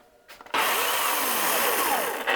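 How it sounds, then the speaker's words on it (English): A chainsaw starts abruptly and runs at full, steady revs for about two seconds. The harsh, loud engine whine sits close and alone, and no voices are heard. "No, not the chainsaw."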